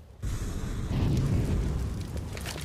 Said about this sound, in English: really nice flashbang there from Stiko